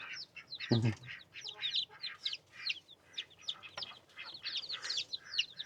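Chickens cluck and chatter in quick, overlapping bursts, with a sharper squawk early on amid the busy flock.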